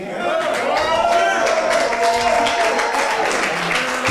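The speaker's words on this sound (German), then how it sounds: "Sehr zum Jubel der Fans, wie man hört." Wrestling fans at a show cheer and applaud in a dense, sustained crowd roar, with clapping and voices blending together and some talk mixed in throughout.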